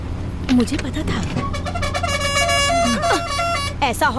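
A vehicle horn blares loud and close for several seconds, a sustained tonal honk amid busy traffic noise with voices around it.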